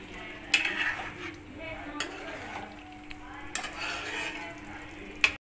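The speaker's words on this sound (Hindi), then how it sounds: "तो मैंने पनीर को भी सारे मसालों में अच्छे से मिक्स कर लिया है।" Paneer stirred and mixed into a spiced masala in a pan, a soft sizzle under occasional spoon clinks and scrapes against the pan, fairly quiet and close with no speech.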